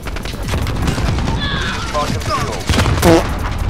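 Rapid gunfire in the video game Modern Warfare cracks out in loud overlapping bursts, and someone talks over the shooting.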